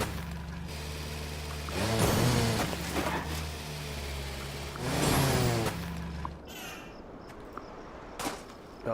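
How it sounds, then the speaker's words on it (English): A tractor engine in the farming game Farm Together runs steadily with a low droning hum, swelling louder twice before dropping away to a quieter background, with no talking. "Our tractor's going to run out of fuel."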